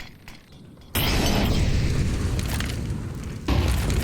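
Grenades detonate in Counter-Strike on the Inferno map. A sudden loud boom hits after a quieter stretch and is followed by a long roaring wash, then a second heavy blast lands near the end.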